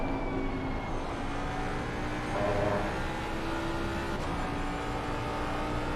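A Ford Mustang race car's engine in a racing video game at Spa-Francorchamps holds a steady, sustained drone from a passenger view, loud and continuous with a slight swell midway and no talking.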